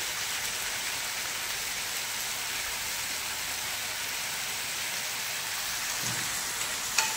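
Chopped onion fries in hot oil spiced with cardamom and cinnamon, making a continuous, even sizzle that holds steady throughout, with a faint clink near the end.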